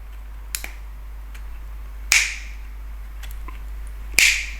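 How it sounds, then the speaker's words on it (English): Sharp snipping clicks from small tweezers cutting parts on an Eachine QX70 micro drone: a few faint ticks and two louder, crisp snaps spaced about two seconds apart, close up over a low steady hum. "I will use a small tweezer and start to cut like this"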